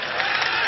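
Crowd applause at a political rally in Bareilly, a loud dense wash of clapping from many people that holds steady through a very short burst.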